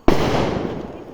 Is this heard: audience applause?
no